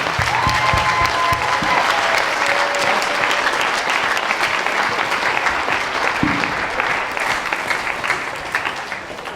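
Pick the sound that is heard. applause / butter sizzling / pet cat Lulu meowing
applause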